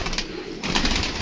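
Domestic pigeons in a loft coo nearby, soft throaty murmurs rising and falling over a constant airy background noise, with several birds blending together.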